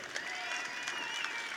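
Audience applause for bull riders Sage Kimzey and Marty Yates at the 2015 Wrangler National Finals Rodeo, a steady dense wash of clapping from a crowd that holds at an even level throughout.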